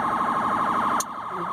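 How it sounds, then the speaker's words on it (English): An ambulance siren wails outside, a loud rising-and-falling electronic tone cycling rapidly and steadily before dropping off abruptly near the end, with no talking. "ambulance."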